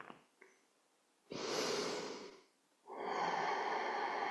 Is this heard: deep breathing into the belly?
yes